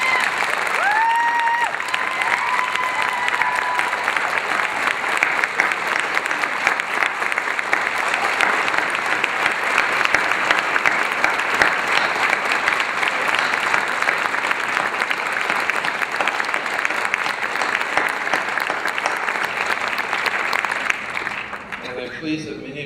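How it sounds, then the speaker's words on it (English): Sustained audience applause fills a nursing school pinning ceremony at the University of Texas at El Paso, loud even clapping from a large crowd lasting over twenty seconds before fading at the close. "as we applaud you for the support that you have given to our graduates"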